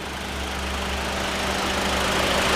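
A 2013 Acura TSX Wagon's small four-cylinder engine idles steadily with an even, rumbling hum and no other sounds.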